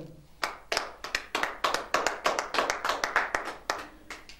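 A congregation clapping in praise of the Lord at a church intercession service, a run of loud, sharp, fairly regular hand claps close by, with no voices over them.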